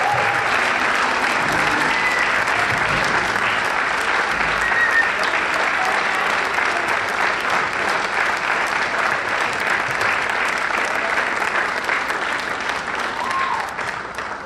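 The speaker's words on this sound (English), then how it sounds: "How about one more round of applause for the string ensemble, the string orchestra." Steady, loud audience applause fills a school auditorium after a string orchestra's performance at a spring instrumental concert, sustained and even throughout before tapering slightly at the end.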